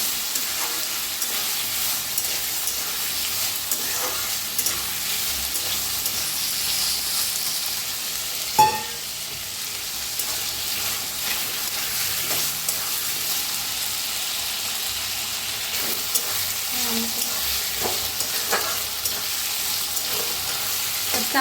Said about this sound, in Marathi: तेलात पहिलं भाजून घ्यायची कांद्याबरोबर